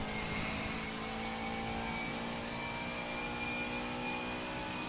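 A race car engine in a racing video game holds steady at high revs, bouncing against the rev limiter in a continuous, even drone for the whole stretch, loud and close with no talk.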